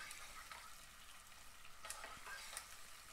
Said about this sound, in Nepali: म सबै प्याज राखेर यसलाई फ्राई गर्छु।